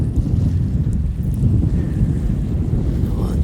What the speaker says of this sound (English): We'll enjoy some of these waves.